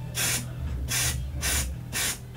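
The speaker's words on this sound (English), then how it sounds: "Yeah, basically, I'm putting spray paint." A new can of spray paint fires four short, loud hissing bursts in an even rhythm for drag makeup, each spray about a third of a second with brief pauses between.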